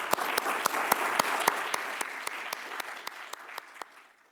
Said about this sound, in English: let's give Barry a round of applause.